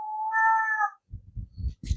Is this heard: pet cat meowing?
yes